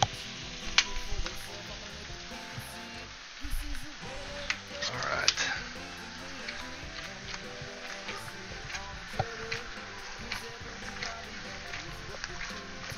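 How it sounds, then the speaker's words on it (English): Peppers, onions and garlic sauté in a pan with a soft, continuous sizzle at some distance, broken by a few clinks and handling noises while a person speaks over it. "while we wait for our peppers, onions, or onions and garlic to saute over there"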